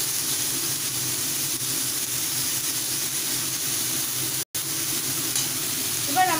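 Food being stirred and fried in a pan, a dense, steady, close sizzle running continuously with one brief cut to silence midway, no voices.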